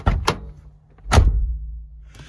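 A 1990-1997 NA Mazda MX-5 Miata door closes with a solid, tight thunk, close by after a couple of quick clicks, leaving a low rumble that fades out.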